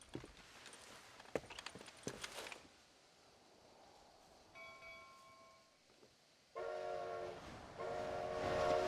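Steam train in the Red Dead Redemption video game, heard as rattling, clattering wheels at first, then a sustained whistle tone, and finally a louder, drawn-out horn blast over rumbling rail noise.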